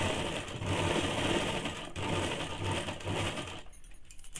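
A sewing machine stitches the 1/2-inch seam of men's underwear, running in quick steady bursts with brief pauses between them, close and clear, then stopping near the end.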